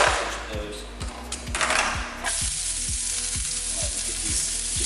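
Food crisps in a hot pan coated with oil spray, giving a steady close sizzle and crackle with regular clicking ticks running underneath.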